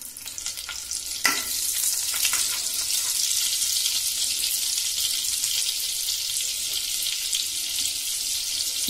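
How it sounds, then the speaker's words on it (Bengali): Butter melting into hot white oil in a pan while paneer is being cooked, giving a steady, close, bright sizzle that runs unbroken through the whole stretch, with one sharper crackle near the start. "সাদা তেল দেওয়া আছে, এর মধ্যে আমি খানিকটা মাখন দেব"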